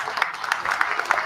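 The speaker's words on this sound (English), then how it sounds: "I think we deserve a clap for that." Scattered applause from a forum audience at a savings cooperative gathering, moderately loud with distinct individual claps standing out over a softer background of clapping.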